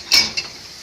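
Dishes clatter into a dishwasher rack, two quick bright clinks close up, the first louder, followed by quiet.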